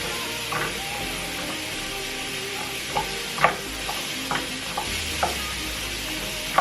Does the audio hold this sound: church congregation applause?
no